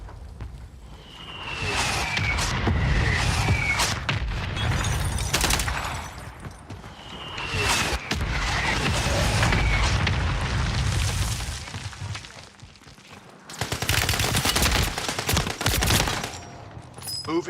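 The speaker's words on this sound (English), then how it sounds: "Mortar strike inbound now." Heavy booming mortar-strike explosions and bursts of gunfire fill a video game battle, loud rolling blasts arriving in clusters with brief lulls between them.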